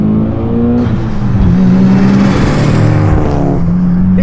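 A highly modified Mitsubishi Lancer Evolution VIII, a JDM Varis build, pulls hard in second gear, its engine note rising loudly and steadily from close by with a dense, continuous roar and no talking.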